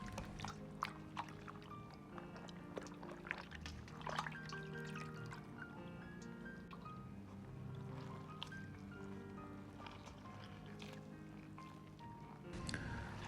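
Pickled Chinese sauerkraut cabbage being rinsed by hand in a bowl of clean water, with faint splashes, drips and squishes, soft and close with no talking.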